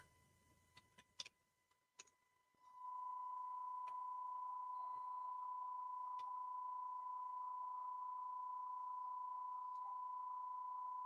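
After a few faint clicks, a cheap stopwatch starts a steady high-pitched electronic beep that holds unbroken for several seconds, thin and moderately quiet.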